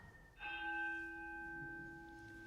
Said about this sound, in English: The hollow notes of the temple bell.